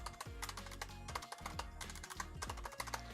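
Typing on an HP Omen Encoder full-size mechanical keyboard with a flat aluminum deck and unlubricated switches, including spacebar presses: a continuous run of close, crisp clacks and thocks at a fast, busy pace, with no voices.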